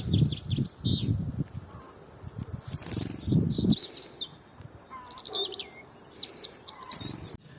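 A small wild songbird is released outdoors, giving bursts of high, bright chirps and twittering calls in several clusters, with low rustling and handling thumps underneath during the first half.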